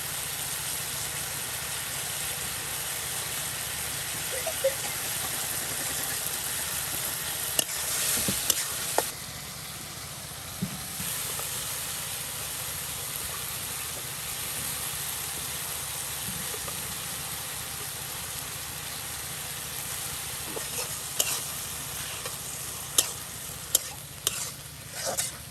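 Dried tilapia fish sizzles in hot oil in a pan, a steady frying hiss with occasional clinks and scrapes of stirring, close by with no talking.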